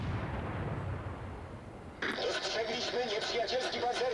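Heavy naval guns fire from the German battlecruiser Moltke in World of Warships, a sudden loud blast midway followed by rumbling, booming battle noise.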